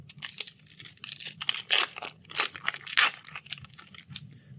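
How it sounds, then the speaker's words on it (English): A Thrones of Eldraine booster pack being torn open up close, with crinkly foil rips and crackles coming in several quick bursts over a few seconds, and no voice. "today we're cracking open Thrones of Eldraine"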